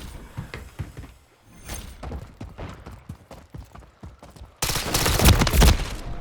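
Gunfire in Call of Duty Modern Warfare 3 comes as scattered sharp shots amid footsteps and movement, then ends in a sustained, loud burst of rapid firing.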